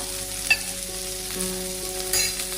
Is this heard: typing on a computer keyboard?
no